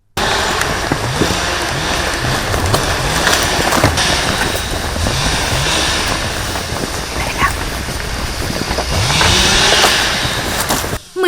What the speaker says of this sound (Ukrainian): у ківерцівському надлісництві йдемо на звук бензопили, а там кипить порубка.